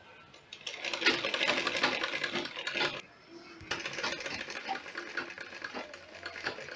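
A sewing machine stitches the fabric of an umbrella skirt in two close bursts of rapid clatter with a short pause between them, and no talk is heard.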